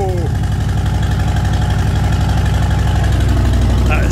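A Harley-Davidson motorcycle engine at close range, starting up and settling into a loud, steady, throbbing idle, with its low pulsing rumble continuous throughout; people talk briefly over it.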